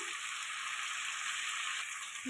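Chicken feet and potatoes sauté in a pan with a steady, even hiss of frying, close and continuous with no talk.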